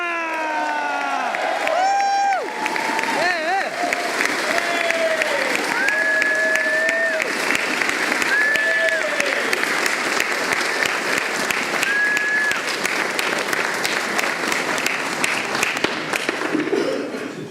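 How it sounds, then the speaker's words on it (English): A crowd at a closing event cheers, whoops and applauds, with voices shouting over dense sustained clapping that carries on steadily for many seconds. "So can we have a huge cheer around it?"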